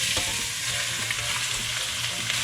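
Meat sizzles steadily in a hot pan with garlic and onion, a dense, even frying hiss with faint crackles, close and continuous, with no voices.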